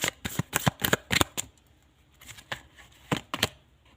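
Tarot cards are shuffled and drawn in quick, close papery riffles, a dense flurry at first and then a shorter second burst, with no talking.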